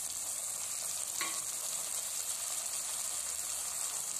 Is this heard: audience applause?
no